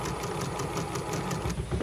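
A home sewing machine runs a steady zigzag stitch over elastic fabric, with a fast, even mechanical rattle at close range.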